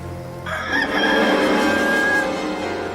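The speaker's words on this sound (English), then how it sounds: "a rooster crowed." A rooster crows loudly and close by, one long drawn-out call that rises and holds, with a faint hum underneath.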